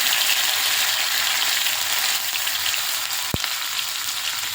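Loud, steady sizzling of curry leaves, green chili and ginger dropped into hot oil in a kadhai, a dense crackling hiss throughout with one brief knock near the end.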